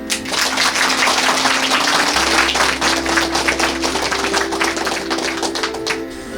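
A meeting audience claps in thanks for education volunteers at a small Christian community gathering, a steady dense wash of applause that holds loud and continuous for several seconds.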